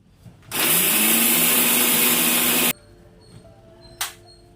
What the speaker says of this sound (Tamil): மிக்சி ஜாரில் மாற்றி அரைச்சி எடுத்துக்கலாம்